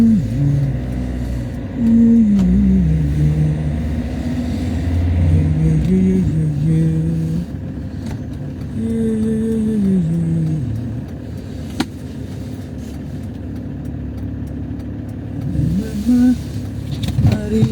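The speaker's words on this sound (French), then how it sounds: "Vite, les garçons, il y a une voiture derrière." A car drives up from behind on a French road, its engine rumbling steadily and rising as it nears, with voices talking over it.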